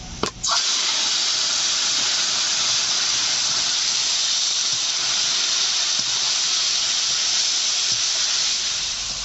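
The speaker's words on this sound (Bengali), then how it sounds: "তেল গরম হয়ে গেছে, ফোড়নে দিচ্ছি 2টো শুকনো লঙ্কা আর সরিষা দিয়ে দিলাম।" Dried red chillies and mustard seeds sizzle in hot oil for a Bengali village-style papaya dish, a steady loud hiss filling the whole stretch after a brief clatter as the spices drop in.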